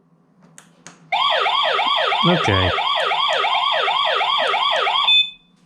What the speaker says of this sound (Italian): L'emergenza può corrispondere alla sirena o meno.